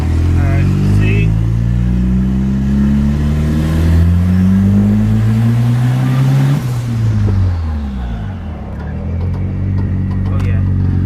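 A turbocharged F23 Honda Accord engine pulls through the gears under load, its droning note rising in pitch, dropping at a shift, then climbing again while driving.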